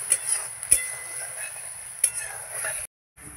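A spoon stirs dhokla batter in a pan after lemon juice goes in, sharp scraping clinks against the metal at irregular moments over a faint sizzle, ending in a brief silence.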